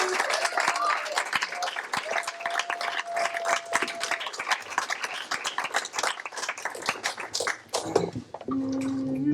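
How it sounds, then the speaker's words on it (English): A small-town audience at Spoon River claps for the Brain Bling improv group, a lively patter of hands that thins out near the end before a voice starts speaking. "So big round of applause for Brain Bing."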